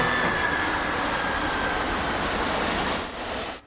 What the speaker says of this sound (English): Air Force One arriving at Ellington Field in Houston, Texas